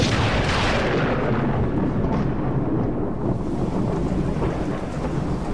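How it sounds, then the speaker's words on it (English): A heavy thunderstorm: deep rolling thunder rumbles continuously over steady pouring rain, loud and close, with no voices. "Across the cosmos, I bring with me the storm."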